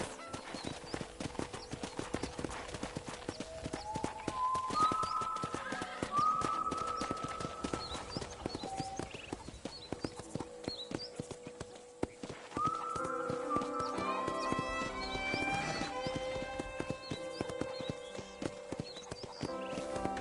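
A horse's hooves clip-clop steadily in Red Dead Redemption, walking on a ranch, with a neigh or whinny breaking in partway through and some faint ambient sounds behind.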